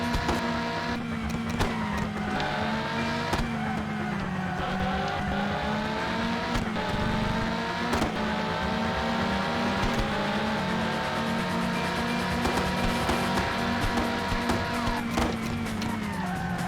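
Race cars lapping a long circuit in the PS1 racing game Le Mans 24 Hours, a continuous droning engine note rising and falling through gear changes, with other traffic passing and brief skid sounds, no talk.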